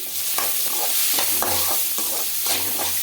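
Onions and garlic frying in oil, with a continuous bright sizzle and regular scraping stirs against the pan.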